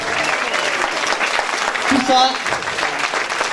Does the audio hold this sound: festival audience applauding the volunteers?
yes